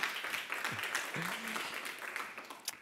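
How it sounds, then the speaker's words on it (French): Audience applause in a hall at the launch event for speeding up Québec's shift to a circular economy: a steady spread of many hands clapping, moderately loud, with a voice briefly sounding over it. "Je ne sais pas si vous pourriez applaudir pour prouver que je ne suis pas tout seul ici aujourd'hui"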